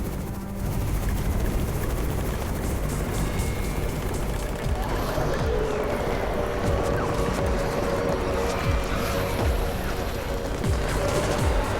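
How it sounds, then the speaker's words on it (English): A steady, dense helicopter rotor roar fills the scene in the video game Undawn, loud and continuous, with scattered sharp cracks like distant gunfire mixed in. "It's the Raven's chopper! We have backup!"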